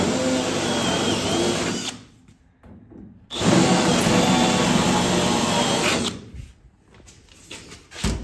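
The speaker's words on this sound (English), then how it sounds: "Yeah, that's the drill doctor" A Drill Doctor drill bit sharpener runs in a racecar workshop with a loud grinding whir, stopping briefly twice between longer bursts of motor noise.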